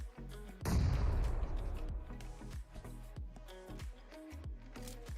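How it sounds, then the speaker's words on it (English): A grenade bursts in a battle royale game during a competitive scrim match: one sudden, loud, booming blast that decays over a couple of seconds, followed by softer in-game sounds and tones. "A nade comes in."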